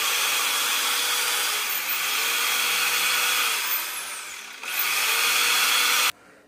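Harsh, continuous sawing through wood while reshaping a motorcycle seat, loud and close, running steadily for several seconds with a brief dip as the saw sticks before stopping abruptly.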